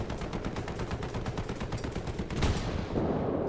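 Rapid machine-gun bursts ring out in an armored-car combat video game, fast regular shots in a long close string, followed by a heavier boom near the end.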